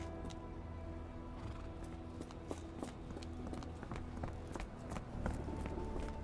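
A horse in a video game snorts and clops its hooves in a steady, fairly close rhythm, with occasional taps and shuffling over a low ambient hum.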